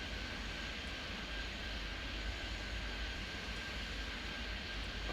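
A fixed-wing aircraft in the video game Airport Madness 3D lands on a runway, giving a steady, even engine drone that holds at the same level throughout with no voices over it.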